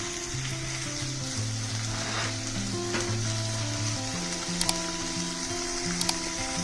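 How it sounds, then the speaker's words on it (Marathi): A crushed green chili and garlic mixture sautés in a pan. An even, close sizzle runs throughout under soft stirring scrapes and a few brief clicks, with a low tonal hum beneath and no talk. "आता हे मिश्रण छान सोनेरी कलर येईपर्यंत आणि त्याचे कच्चे पण जाऊपर्यंत चांगलं परतून घ्यायचं आहे"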